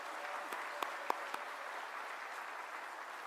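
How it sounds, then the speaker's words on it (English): An audience at a Lincoln Reagan Day dinner in Tyler applauds, a steady wash of many hands clapping that is somewhat distant and soft, with a few sharper individual claps standing out near the start. "Let's give Kara and Jonathan Story another applause,"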